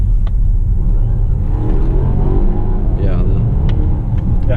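A 2018 Volvo XC90 T8 Polestar climbs uphill in eco mode, its low engine and road rumble steady and close throughout, with someone talking over it.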